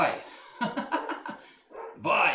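Two dogs bark in a short burst of several sharp, close barks with a brief yip, loud over a room, then a pause before another noisy outburst.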